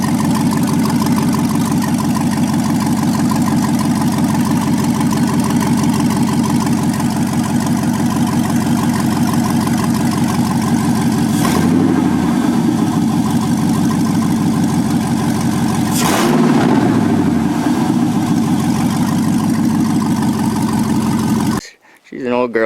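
A 5.3 LS V8 swapped into an old car idles steadily and loudly up close on all eight cylinders, a smooth low rumble with two brief revs, while people talk over it until it cuts off near the end.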